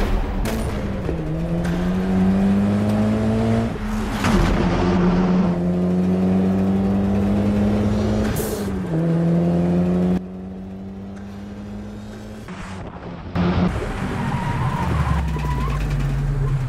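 A race car launches hard and accelerates, its engine note climbing through repeated gear changes and rising revs, loud and close throughout, with a brief drop before the engine pulls again.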